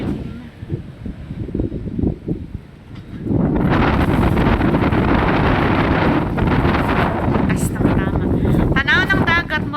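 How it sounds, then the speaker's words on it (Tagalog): Strong wind roars and buffets the microphone continuously, rising sharply after a few seconds into a loud, steady howl. "Nanaghoy ang hangin, guys!"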